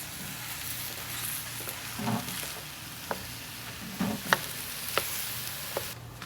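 Food fries in a pan on a home stove: a steady soft sizzle runs throughout, with occasional stirring clicks and scrapes rising slightly above it, and no voices.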